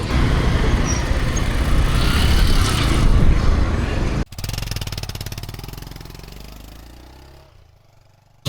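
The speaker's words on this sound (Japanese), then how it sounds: "ここから 6分7分ぐらいなんでバイクでちょっと行こうと思います。" Motorbike engine revving steadily during a ride through Nepal, loud and continuous with wind and road noise, then the engine note winds down and fades toward the end.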